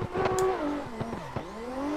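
A car in a driving game drifts with the handbrake, engine revs surging and dropping in short bursts as tires squeal, close and fairly loud.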